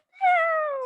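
A person imitates a cat with one drawn-out, falling meow in a radio studio, close and clear against silence.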